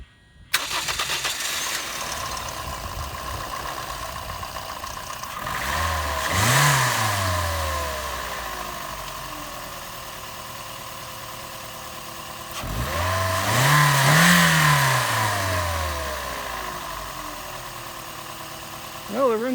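An old Toyota car engine cranks and catches, then revs up twice with long rising and falling sweeps, close and loud, settling back toward idle between bursts.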